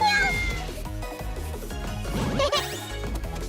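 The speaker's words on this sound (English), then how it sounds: "Kitty noises." Cartoonish cat meows in a video game where jars get smashed for cookies, a few short mews popping over busy game music and crashing effects.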